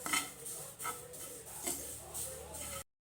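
Tamarind leaf powder roasting in a pan, stirred with a utensil in about four rhythmic scraping sweeps over a faint sizzle, close and moderately loud before cutting off abruptly.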